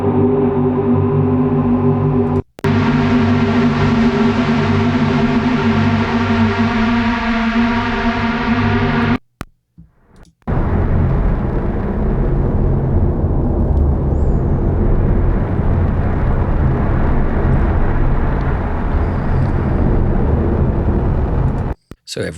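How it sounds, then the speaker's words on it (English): Evolving synthesized drones from a dark sound-design sample pack: a sustained, loud harmonic tone that cuts out abruptly around two and nine seconds, giving way to a dense, rumbling, noisy texture that swells and shifts until the end. "these drones really kind of evolve in interesting ways too"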